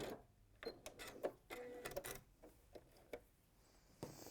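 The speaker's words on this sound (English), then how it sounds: "sew it on. 1/4 inch seam allowance again" A home sewing machine stitches a quarter-inch seam on a William Morris Scottish Cross quilt, running in short, quiet bursts of rapid needle clatter with brief pauses between them.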